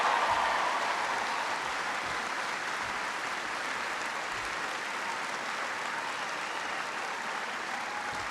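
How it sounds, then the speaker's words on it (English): Large audience at a small-business policy event gives sustained applause, a continuous wash of many hands that starts strongest and then holds steady at a moderate level, heard somewhat distant with no talking. "please give her a huge round of applause"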